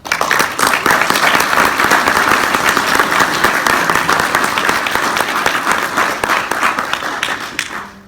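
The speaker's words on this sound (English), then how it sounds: "I think they deserve a good applause for that." Sustained, dense applause from a convention audience at a World of Darkness keynote in Berlin, loud and steady for about eight seconds, with a few scattered louder claps toward the end.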